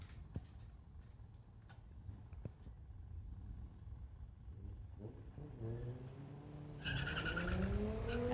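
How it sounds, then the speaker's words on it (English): A drag-race launch at a street-legal event pits an El Camino against a Volkswagen Bug: engines rumble under a steady roar, then rise sharply as the cars take off, ending in a loud, continuous wash of noise. "El Camino versus the Volkswagen. Saw that rear axle just bouncing when he took off."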